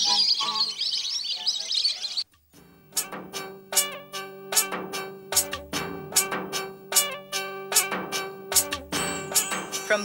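Birds at the Bharatpur bird sanctuary in India call and chirp repeatedly in sharp, overlapping bursts after a brief hiss, fairly close and loud, with no one talking.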